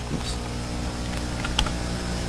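Keys on a computer keyboard are tapped briefly as a song title is entered during a 2003 keynote demo of the iTunes Music Store. The soft clicks sit over a steady room hum, with no talking.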